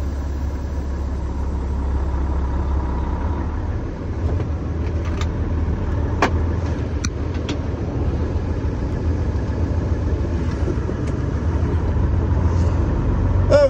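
A truck hauling corn drives along a road, its engine giving a steady low rumble with road noise heard from inside the cab, continuous and fairly loud, with a few faint clicks and no talking.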